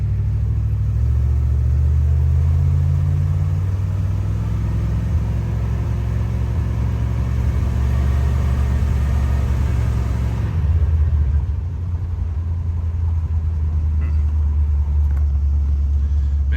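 An old truck drives across a road with a loud, steady low engine rumble that drops in pitch partway through and then settles into a lower drone, with no talking.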